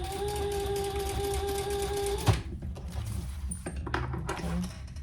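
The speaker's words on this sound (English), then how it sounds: "we're just gonna baste that in place" A sewing machine bastes a wristlet strap in place, whirring steadily and close for about two seconds before stopping, followed by quieter handling noises and faint rustling.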